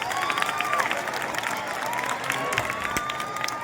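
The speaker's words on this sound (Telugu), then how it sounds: "కొట్టండి చప్పట్లు" A school audience at a high school anniversary celebration claps steadily through the whole stretch, a dense, continuous wash of applause with some crowd noise mixed in.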